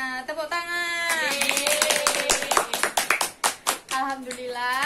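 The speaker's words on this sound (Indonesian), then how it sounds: "Tepuk tangan." Schoolchildren in a classroom clap their hands together in a quick, rhythmic burst of sharp individual claps, framed before and after by sung or drawn-out young voices.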